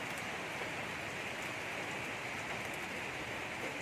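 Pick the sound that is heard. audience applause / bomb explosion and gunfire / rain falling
rain falling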